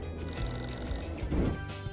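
An old-style telephone bell rings steadily and close, a bright sustained ringing with a brief low thump partway through, no voices.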